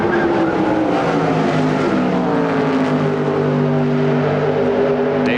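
NASCAR Winston Cup stock cars racing at Indianapolis Motor Speedway during 1996 Brickyard 400 practice, a loud, continuous roar of several engines at high speed with shifting pitch as the cars pass.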